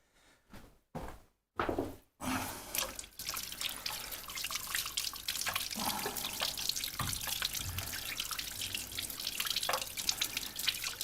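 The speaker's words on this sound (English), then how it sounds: "I am going to go back to my little sink over here and just rinse off my knife" Water runs steadily from a sink tap as a knife is rinsed underneath, a constant close splashing rush following a few brief clatters at the start.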